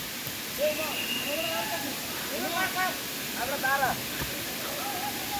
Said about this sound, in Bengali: একটা ঝর্ণার উপরে উঠছি আমরা